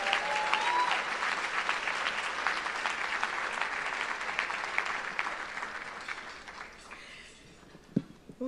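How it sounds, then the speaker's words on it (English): Audience at an awards gala in the Haitian community claps in sustained, dense applause that tapers off toward the end, with a brief voice breaking in near the close. "Let's give another round of applause to the Leadership Hall of Fame honorees."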